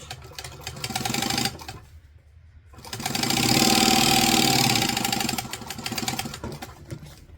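A sewing machine top-stitches fabric in two loud, fast-running bursts of rapid needle clatter, separated by a short pause and tapering off at the end.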